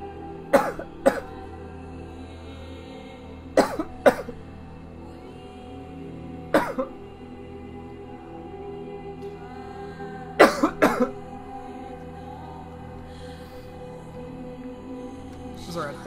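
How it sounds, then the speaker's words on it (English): Bursts of harsh coughing come in clusters of two or three, close and loud, separated by quiet pauses over a low steady hum. "I'm sorry, I had a coughing fit."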